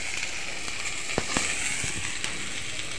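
Red water lily poured into a hot pan sizzles with a steady, loud hiss and scattered crackling pops, close and continuous throughout.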